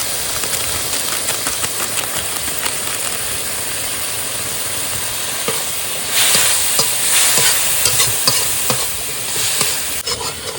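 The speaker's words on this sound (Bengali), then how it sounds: "পেঁয়াজ আদা রসুনটা ভাজা হয়ে গেছে এবার দিয়ে দেবো এক এক করে সব গুঁড়ো মশলা" Ground spices added to fried onion, ginger and garlic sizzle loudly in a pan while being stirred, a continuous close frying hiss with scraping strokes that swells partway through; no one speaks.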